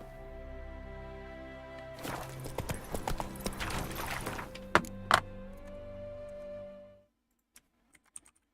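Roach the horse trots in The Witcher 3, hooves clip-clopping in a steady rhythm over a sustained game ambience, with a few sharp thuds near the end before the sound cuts off and only faint clicks remain.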